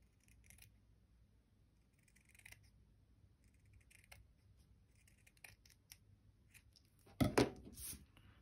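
Scissors trim a paper napkin for covering an envelope, a scatter of faint soft snips and paper rustles building to a louder crisp cut near the end, close and without talk.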